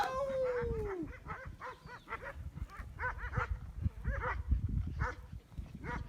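Dogs bark and yelp repeatedly at close range in a village near a tractor, opening with a rising whine, the barks coming in uneven, overlapping bursts.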